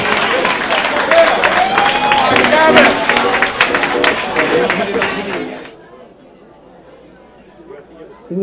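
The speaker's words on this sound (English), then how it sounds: "Ladies and gentlemen, a round of applause for you." An audience applauds and cheers amid crowd chatter and voices, loud and busy for several seconds before abruptly dropping to a quiet room hush.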